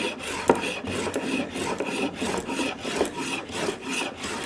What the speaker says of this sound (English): the smoothing plane. I have a good sharp blade in it.